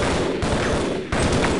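Rapid automatic gunfire in Half-Life: Opposing Force, loud close bursts of shots with a brief pause between them.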